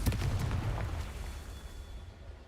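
The Confringo fire blast spell goes off in the Hogwarts Legacy video game, a sharp low booming burst at the start that rumbles briefly and fades over a couple of seconds.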